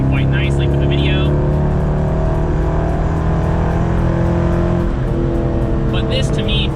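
A C5 Corvette fitted with Borla mufflers rumbles at a steady, loud idle-to-cruise drone throughout, with brief higher tonal bursts near the start and end.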